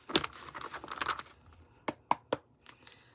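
Tarot cards are shuffled quietly, giving soft papery crinkling and riffling, then a few sharp, separate snaps of cards near the end.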